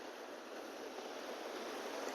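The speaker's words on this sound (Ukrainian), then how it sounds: "море плескає, неперевершена краса" Sea waves wash and splash against rocky shore at Lloret de Mar on the Catalan coast, a steady, soft broadband surf hiss heard alone for a couple of seconds.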